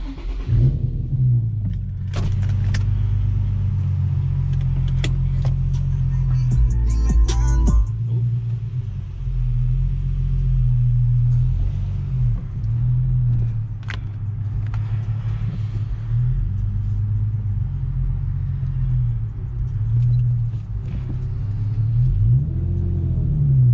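An Infiniti G35 with a manual gearbox drives along, a deep steady engine rumble heard from inside the cabin, rising briefly as it accelerates, with faint clicks and shifts over the continuous drone.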